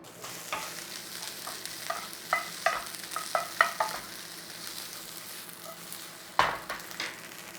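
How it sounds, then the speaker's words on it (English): Bacon dry frying in a pan in its own fat, a soft steady sizzle punctuated by a series of clicks and scrapes from a utensil turning the rashers, with one louder knock near the end; no speech. "So we're going to more or less dry fry it and use the oils from the bacon"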